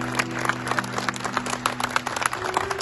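Guests applaud a Pakistan Army rescue team at Istanbul airport, a steady crowd of hands clapping close and continuous, with a faint hum running beneath.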